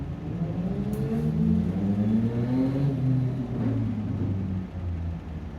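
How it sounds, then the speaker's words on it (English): Loud motorcycles rev and rumble nearby, their engine tones rising and falling in a steady, overlapping growl for several seconds, with no talking. "Loud motorcycles."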